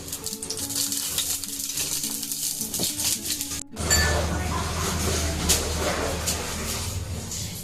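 Cooking oil goes into a hot pan and sizzles, a steady bright frying hiss that jumps up partway through and continues alone, close and moderately loud.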